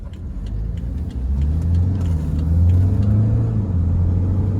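A used 2014 BMW 520D diesel sedan accelerates on partial throttle, its engine a deep droning rumble that climbs steadily in pitch as speed builds, with road and wind noise close and loud throughout and no talking.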